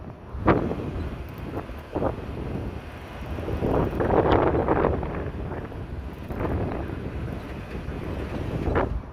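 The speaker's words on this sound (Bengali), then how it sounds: "এই জায়গাটাতে ঠান্ডা একটা হিমেল বাতাস পাওয়া যায়" Cold night breeze outdoors on a dark roadside walk near a fuel pump in rural Saudi Arabia, heard as steady wind rumble buffeting the microphone, swelling louder in the middle with occasional gusty thumps.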